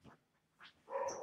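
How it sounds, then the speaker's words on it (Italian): A pet dog barks indoors in a couple of short, fairly faint bursts, the last one louder and more sustained. "ho un cane che abbaia a tutto e tutte le cose"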